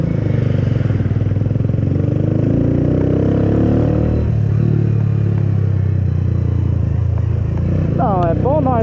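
A motorcycle engine runs loud and close, revving up and down in waves with a heavy rumble, and a voice speaks briefly near the end.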